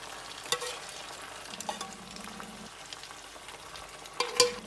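Two tins of tuna being stirred into tomatoes frying in a pan for a tuna curry, with a spoon scraping and clinking at intervals over a soft, steady sizzle.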